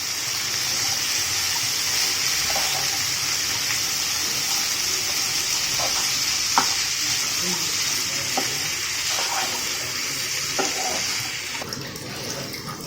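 Bitter gourd curry sizzles steadily in a pan while a spoon stirs through it, giving scattered scrapes and knocks over a close, continuous frying hiss that softens slightly toward the end.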